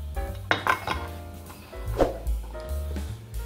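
Tomato, chilies and onion are dropped into a metal baking tin, giving close clinks and knocks of metal against metal over a low background hum.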